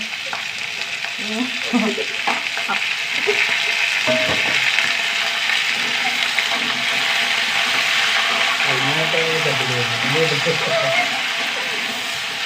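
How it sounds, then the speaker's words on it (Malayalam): Vegetables, including okra, are sautéed in a hot pan: a steady sizzle with scraping stirring clinks runs throughout, while someone talks over it at intervals. "വഴറ്റണം നന്നായി വഴറ്റെടുക്കും വഴണ്ട് വരട്ടെ"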